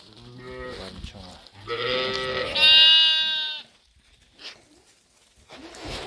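Sheep and lambs of a dark chestnut breed bleat in a pen, two or three drawn-out, wavering calls close by, with quiet pauses between them.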